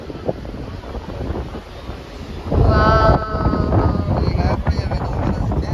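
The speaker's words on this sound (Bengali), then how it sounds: "প্রচুর বাতাস বাবারে ফোন ধরা যায়" Strong beach wind buffets a phone microphone, a loud continuous rumble that swells midway, with a voice speaking under it.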